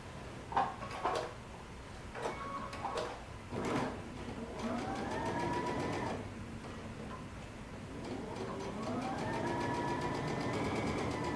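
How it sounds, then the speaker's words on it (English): A sewing machine stitches along the pintuck edge on the front leg of a pair of pants, with clicks and ticks followed by two steady, rising motor-hum runs at close range. "We're going to be sewing right along that edge."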